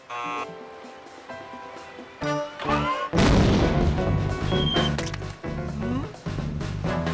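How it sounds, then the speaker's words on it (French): Cartoon guano cannon firing in the animated series Ratz: a whistling build-up leads to a sudden loud blast and crashing burst, followed by scattered squeaky whistles and clatter. "Un canon à guano."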